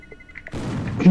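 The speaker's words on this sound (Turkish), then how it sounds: "Çekil bomba patlıyor" A bomb detonates in the video game Emergency Hamburg during a bank robbery, one sudden loud blast that rumbles on after a few faint beeps.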